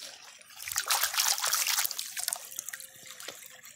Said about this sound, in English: Rinse this one off.